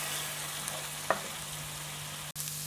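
Onions sizzling steadily in a pan with crushed garlic and ginger, part of a Kenyan dish before tomatoes go in; a soft, even frying hiss throughout with one brief clink partway.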